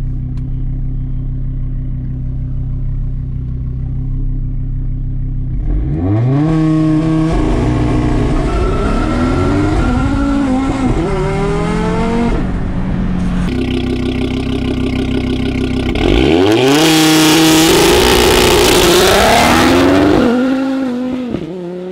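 An Audi RS3 with fuel line upgrades and antilag, heard from outside: a loud idle builds into two hard launches, each a rising engine roar with gear changes and crackling antilag pops.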